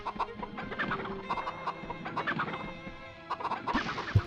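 Chickens in the video game MediEvil cluck in quick, repeated bursts, a busy flock close by, with a louder flurry near the end.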